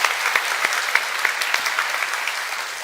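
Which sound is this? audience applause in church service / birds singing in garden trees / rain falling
audience applause in church service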